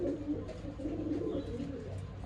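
Pigeons in a loft coo softly and continuously, several low throaty calls overlapping close by in a quiet setting.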